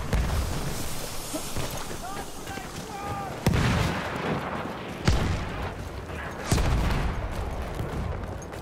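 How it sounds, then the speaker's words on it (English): Artillery cannon fire in a first-person war video game on the Fao Fortress map, three heavy booms landing a second or so apart, loud and close, over a constant battle din of distant gunfire while players talk over it. "Cannon just above us."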